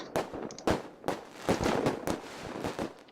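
Fireworks in a video game scene, a rapid series of sharp cracks and pops bursting one after another over about three seconds, fairly close.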